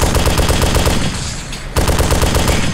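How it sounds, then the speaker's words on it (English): Loud, sustained machine gun fire in the Arma 2 video game, rapid continuous bursts that briefly drop away near the middle before resuming at full intensity. "Machine gun."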